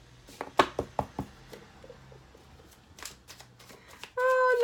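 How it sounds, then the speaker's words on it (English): Tarot cards from an herbal tarot deck being shuffled by hand, a run of sharp riffling snaps early on, then softer scattered card rustles, ending in a steady louder tonal sound. "Let's do a big girl shuffle."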